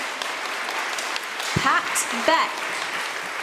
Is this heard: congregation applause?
yes